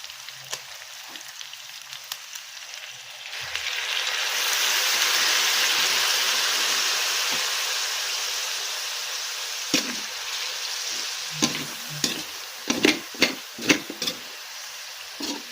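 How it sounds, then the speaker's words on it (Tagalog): Adobo frying in oil in a pan builds into a loud, steady sizzle, then thins out as sharp scraping stirs and clatters of a utensil against the pan take over near the end. "nagmamantika na yung adobo ko"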